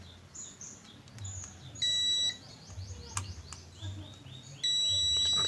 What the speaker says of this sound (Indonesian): Ini pakai buzzer pasti bunyi.